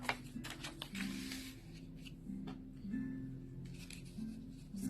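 Scissors snip paper in short, quiet bursts while handmade Christmas cards and tags are assembled, close by, with soft rustling between the cuts.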